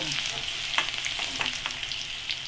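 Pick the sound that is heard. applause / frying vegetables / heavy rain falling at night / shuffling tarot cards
frying vegetables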